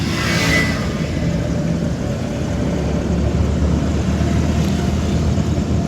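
Car pulling away after the clutch is pressed and third gear engaged at around 30 km/h, a steady mid-pitched engine drone with road rumble, continuous and fairly loud throughout.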